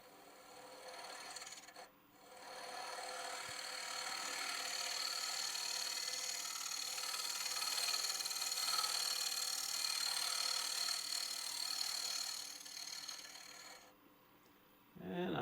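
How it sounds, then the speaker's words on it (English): A scraper hollowing the inside of a holly wood vessel spinning on a lathe, a steady close rasping scrape that runs continuously for about twelve seconds between brief pauses. "let's get after that with the scraper"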